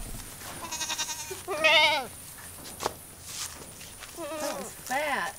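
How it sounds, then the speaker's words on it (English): Goats bleat in a pasture, several wavering cries rising and falling close by, with a voice speaking briefly between them. "They're not mean goats."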